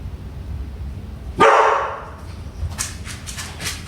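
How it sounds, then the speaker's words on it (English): A pet dog named Bubby barks once at close range, a sharp loud bark followed by a brief trailing yelp, set against a quiet indoor room with faint background noise. "Bubby, who are you barking at?"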